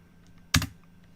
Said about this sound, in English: so cd root and hit enter.